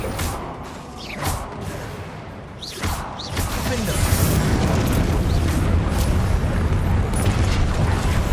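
The Expelliarmus spell goes off in Hogwarts Legacy combat, with sharp magical bursts and whooshing pops early on. These give way to a dense, rumbling, booming wash of battle effects that stays loud to the end.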